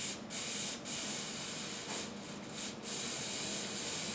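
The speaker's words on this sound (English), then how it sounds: "I generally go about one spray on this fragrance" Success Homme by Milton Lloyd fragrance sprays in a long, continuous close hiss of atomised perfume, with a few brief dips as the nozzle is pressed again.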